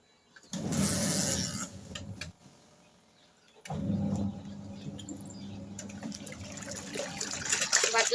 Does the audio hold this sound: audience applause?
no